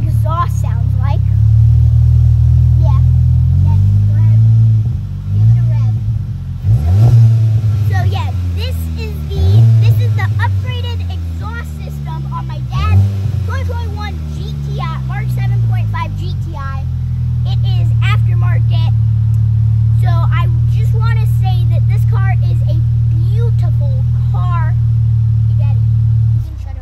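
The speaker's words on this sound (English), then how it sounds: "So this is what the exhaust sounds like." A Volkswagen GTI MK7.5 idling after start-up, its exhaust giving a steady low rumble close by, with several short revs rising and falling in the middle before it settles back to idle; someone talks over it.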